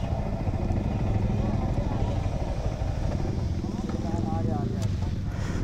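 Sport motorcycles, a Suzuki Hayabusa and a Kawasaki ZX-10R, pull away together on a road with a steady, loud engine drone that fills the whole stretch, while people talk over it.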